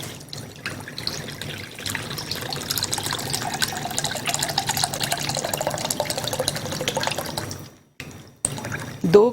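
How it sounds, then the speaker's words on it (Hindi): Pakola milk, two cups, pours into a bowl in a kitchen, a steady close trickle and splash of liquid lasting several seconds before stopping, with no talk over it. "2 कप हम पाकोला मिल्क इसमें लेंगे।"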